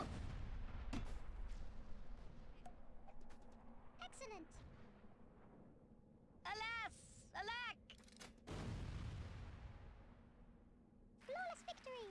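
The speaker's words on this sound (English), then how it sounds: "Thankfully I have an airstrike for this though." Airstrike explosions in the video game Worms Reloaded, with deep booming blasts and rumbling that come amid game sound effects and high whistling tones, while someone talks over them.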